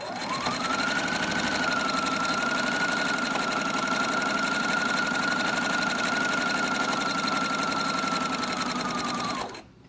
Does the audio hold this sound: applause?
no